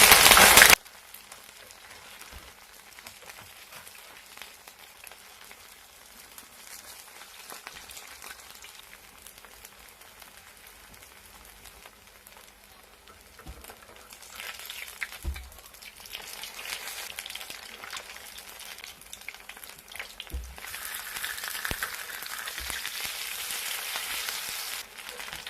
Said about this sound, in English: I'm trying to scrape it so it doesn't stick on the pan.